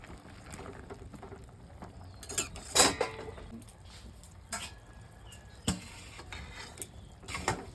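A spoon stirs boiled jackfruit with turmeric and salt in a pot, giving soft scraping and occasional sharp clinks against the metal over a steady low background, with no voices.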